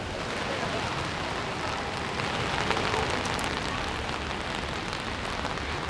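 Steady rain falls on the Champs-Élysées in Paris, a dense, even hiss of drops striking pavement and surfaces that continues without a break, with no voices.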